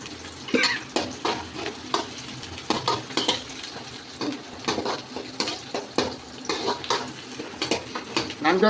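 Onions and two green chilies sauté in a pan for chicken curry, with repeated rhythmic scraping and clanking of a spoon against the pan over a low sizzle, close up and without speech.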